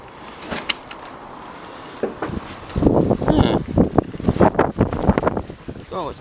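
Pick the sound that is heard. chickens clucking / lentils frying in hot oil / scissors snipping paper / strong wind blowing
strong wind blowing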